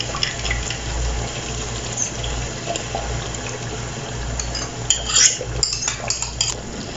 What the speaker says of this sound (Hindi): मैं चिकन में दही डाल चुकी, अच्छे तरीके से मिक्स कर दिया।